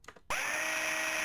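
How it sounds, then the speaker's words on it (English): A drill is switched on in the 1989 game Tex Murphy: Mean Streets, cutting in abruptly after quiet ambience and settling into a steady, loud, high whine. "Turn on the drill?"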